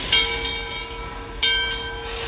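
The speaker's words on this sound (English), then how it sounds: "We're going to begin turning steam engine number 630 first." Steam locomotive number 630, built in 1904 by the American Locomotive Company in Richmond, Virginia, being turned, with steady tonal ringing and two sharp bursts of hissing steam, heard nearby and fairly loud.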